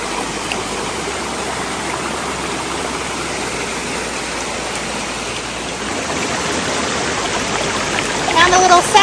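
A waterfall along a hiking loop in Georgia gives a steady, broad rushing roar close by, with brief chirps near the end and someone talking.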